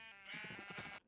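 Sheep bleating in the Minecraft video game with the Create mod, one wavering bleat in a single short burst, fairly faint and on its own.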